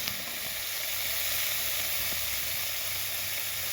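Pumpkin pieces drop into hot oil in a pan for an egg curry, setting off a steady, loud, broadband sizzle that holds evenly throughout with no talking.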